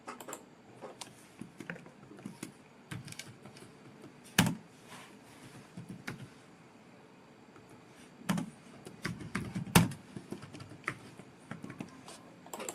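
Computer keyboard typing during design work in Figma, with scattered soft key taps and a few louder isolated clacks, close and quiet, no talking.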